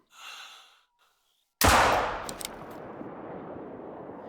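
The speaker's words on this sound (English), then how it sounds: "He was just slightly out of range, so I elevated my shot a bit and waited for him to stop" A single hunting rifle shot in theHunter: Call of the Wild, fired at a deer in Hirschfelden, cracks loudly after a soft breath and short silence, then rolls away in a long, fading echo.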